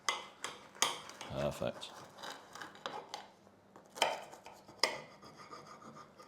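A crispy homemade pizza is sliced into four, giving repeated close, rasping crunches and scrapes of the cutter across the crust, with a brief spoken word.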